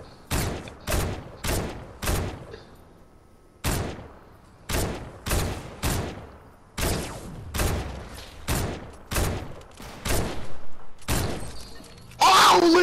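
Semi-automatic rifle shots in a shooter video game crack out in rapid, regular single bursts, loud and close, each followed by a short decay, with an excited voice briefly audible near the end.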